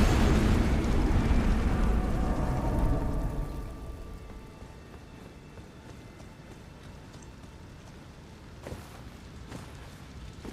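Explosions in the video game Elden Ring: a loud rumbling blast that decays into a long, crackling, debris-like tail with faint scattered pops afterward.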